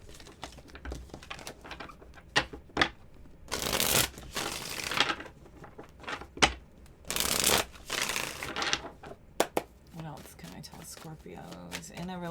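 Tarot cards are shuffled in bursts, with several loud riffling whooshes and crisp card snaps between quieter handling and tapping, and a person talks briefly near the end.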